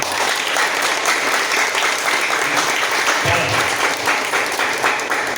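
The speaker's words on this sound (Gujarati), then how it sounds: "કોમા સેટ માટે એકવાર જોરદાર તાળી" An audience at a seminar-style program claps loudly and continuously, a dense, even wash of applause that fills the whole stretch with no pause.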